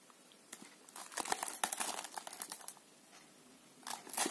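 Plastic gift packaging crinkles and rustles in bursts of handling close up, with a brief pause before a last flurry of crackling.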